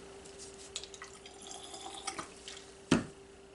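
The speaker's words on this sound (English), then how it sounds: "I wanted to add a little bit of water to my paint." Water squeezed from a cheap squeeze bottle into acrylic paint: faint trickling and a few small drips over a low steady hum, ending in one clearer splash-like drop.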